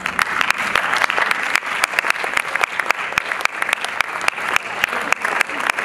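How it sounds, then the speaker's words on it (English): Church congregation applauding, a dense, steady clapping from a large crowd with sharp individual claps standing out, continuous and fairly loud throughout. "Let's clap for that."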